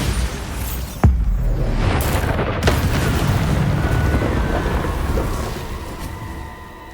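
A Bombarda blasting spell explodes in Hogwarts Legacy with a single sharp boom near the start, then a long rumbling roar that stays loud before slowly fading, with a second smaller crack shortly after the first.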